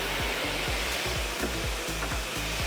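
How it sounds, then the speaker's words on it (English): A lightweight home-use blow dryer roars steadily at close range while drying hair during a keratin treatment, a continuous loud whoosh of air with a faint rhythmic pulsing throughout. "I'm going to dry the hair. Start from the back."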